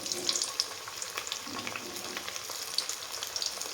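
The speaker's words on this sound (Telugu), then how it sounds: "వేగుతున్నాయండి." Veg Manchurian balls deep-frying in hot oil, a steady close crackling sizzle with scattered sharper pops throughout, no voices.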